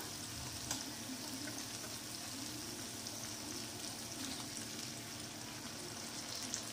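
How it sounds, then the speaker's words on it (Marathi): Cucumber curry cooks in a pan with a faint, steady sizzle and soft bubbling after a little water goes in, quiet and continuous with no talking. "आता आपण थोडं यामध्ये थोडं पाणी टाकूया"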